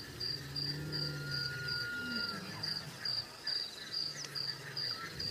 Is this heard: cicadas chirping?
yes